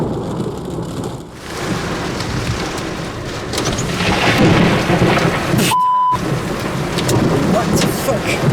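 A thunderstorm with heavy rain hammering down steadily and a rumbling surge of thunder, nearby and loud, briefly cut off for a moment before the downpour continues.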